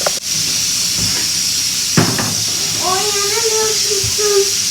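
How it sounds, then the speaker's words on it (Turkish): Eggplants fry in a pot of oil, giving a continuous sizzling hiss with occasional clatters from the kitchen. A voice speaks briefly over the sizzle. "Kızartma tenceresinde de patlıcanlarım kızarıyor."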